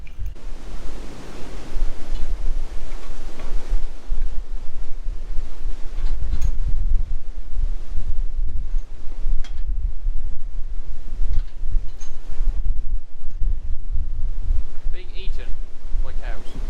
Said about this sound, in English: You might be able to hear the wind getting up